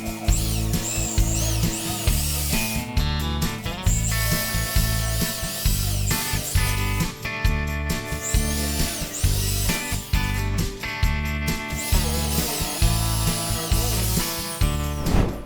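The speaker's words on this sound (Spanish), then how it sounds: "voy a perforar con broca para madera de 516" Wood furniture is drilled with a 5/16 wood drill bit, giving a loud, close power-drill whine in repeated bursts that rise and stop as several holes are bored.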